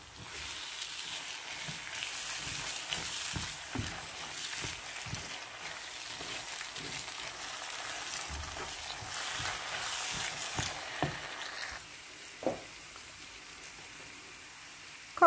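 Rice sautéing in olive oil in a pan, a steady soft sizzle with occasional spoon scrapes and stirring knocks, close and fairly quiet with no talking.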